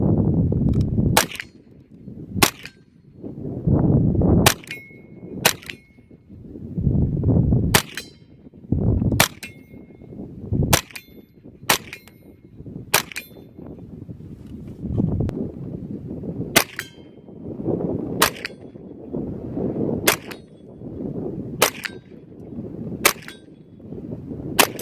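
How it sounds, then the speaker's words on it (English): A Ruger 10/22 rifle with a UTG rail is fired while plinking outdoors. Roughly fifteen sharp, light cracks come at irregular intervals over a steady low rumble of background noise. "we'll do some plinking with it"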